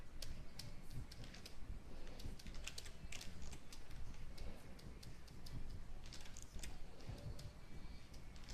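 Computer keyboard keys click repeatedly in irregular quick taps, close and fairly quiet, with no talking over the typing.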